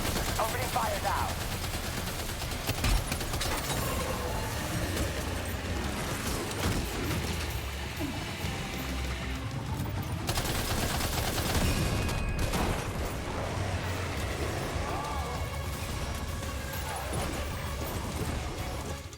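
Sustained gunfire in the video game Death Stranding 2, dense rattling automatic shots mixed with game effects and music throughout, moderately loud, with occasional talk over it.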